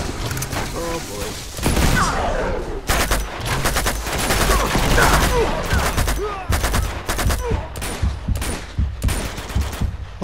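Gunfire in Uncharted 2: Among Thieves, with repeated rapid bursts and scattered single shots among clanking mechanical game sounds, loud and close throughout, with a voice talking at times.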